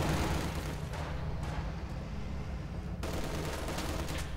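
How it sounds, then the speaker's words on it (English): Bombing-strike explosions in the Company of Heroes 2 strategy game, a 1v1 match, heard as a dense, continuous roar of overlapping blasts and rumbling impacts at steady loudness, with no voices over it. "Another bombing strike here towards the end of Cruzz's base."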